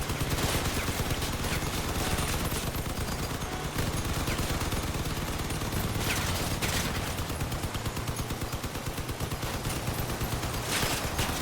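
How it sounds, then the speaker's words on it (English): Rapid shotgun and gunfire bursts from the vehicle combat game Crossout, loud and dense throughout with repeated volleys and a steady engine-like rumble underneath, no talk. "Oh, he's got those shotguns"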